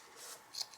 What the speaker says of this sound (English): now I'm just going to cut across the top up here